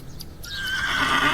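A horse whinnies in the video game The Excavation of Hob's Barrow, a close, loud rising neigh that swells and holds to the end, with faint hoof clip-clop beneath.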